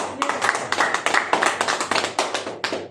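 A small audience claps for Zakir, honoured as a successful leader at an event, with several quick, slightly uneven bursts of close-up hand claps, tapping and fading over a few seconds, with no talk over it.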